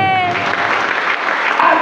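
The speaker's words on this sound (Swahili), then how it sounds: "Pige Yesu makofi tumoja na yeye" A church congregation at an Easter service claps together for Jesus in a loud, continuous burst. Voices call out over the clapping at the start and again at the end.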